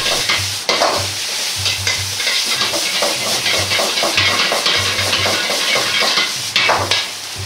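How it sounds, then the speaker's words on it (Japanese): Tuna, komatsuna and salt kombu fried rice is stir-fried in a wok over high heat, giving a loud, steady sizzle punctuated by rhythmic scraping and clanking of a metal spatula against the pan as it is tossed. "鍋を煽りながらしっかりと炒め合わせていきます。"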